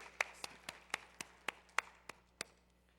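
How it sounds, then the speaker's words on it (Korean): Hands clap at a church service, a steady run of about ten sharp, evenly spaced claps close to the microphone over a quiet low hum, with no voices. "함께 영광의 박수."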